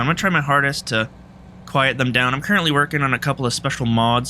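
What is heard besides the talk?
None of the usual background noises is heard.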